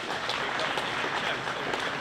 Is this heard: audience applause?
yes